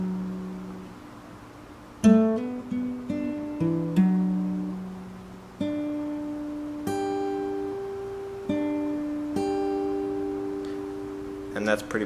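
An acoustic guitar plays the opening of a song, with slow, close, clean picked notes and hammer-ons that let each note ring into the next, with no talking.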